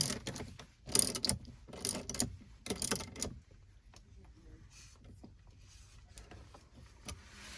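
A ratchet tightens the bolts of an adjustable screen mount kit inside a Tesla Model 3, giving several quick bursts of close clicking before fading to a quieter background.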